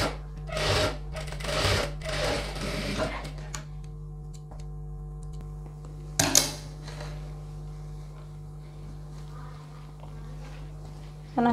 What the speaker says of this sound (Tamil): இப்போ வந்து 1/2 இன்ச் தையல் அப்படியே போட்டுக்கலாம்.